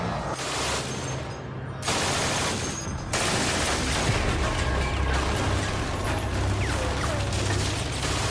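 MG-42 machine gun firing in a World War II setting, an extremely fast continuous burst that blurs into a dense roar with no separate shots, loud and sustained with slight shifts in intensity.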